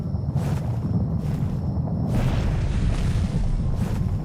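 Volcanoes exploding in a survival video game set on an island, heard as a continuous low rumbling roar with several soft bursts swelling on top, distant-sounding and steady, with no talk.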